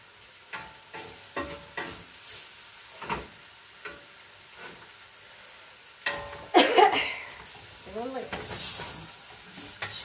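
Food frying in a pan while being stirred, with irregular scraping stirs and a steady sizzle that swells louder toward the end, with brief bursts of steam hiss.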